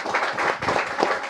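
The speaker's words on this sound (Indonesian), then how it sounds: "Tepuk tangan buat Pak Wamen." A short burst of audience applause for a vice minister at a panel discussion on transmigration and village development. Scattered hand clapping runs steadily through the clip.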